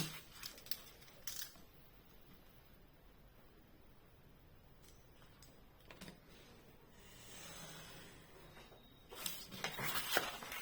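Paper being cut for a handmade scrapbooking card gives a few quiet snips and slicing scrapes, close and faint, with soft handling sounds between them.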